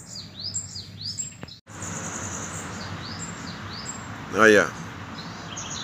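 A bananaquit (sibite) songbird sings in the bush, giving short high chirps and twittering phrases, then one louder, clear call near the end, while someone speaks briefly over faint background noise.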